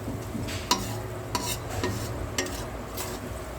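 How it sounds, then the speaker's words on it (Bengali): Ginger and ground coriander masala being stir-fried in a pan for Amritsari malai chicken, a steady low sizzle broken by several sharp spoon scrapes and clinks against the pan, close and moderately loud, no talking. "দিয়ে এবার মশলাটা কষবো।"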